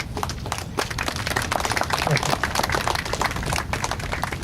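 An audience claps at a Black Tom memorial ceremony, a dense, continuous crackle of many hands at moderate distance that holds steady throughout, with some voices mixed in underneath.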